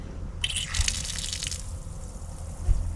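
Pink RV antifreeze runs out of a hot water faucet, a faint steady trickle and splash over a low hum, with a brighter gush of splashing early on.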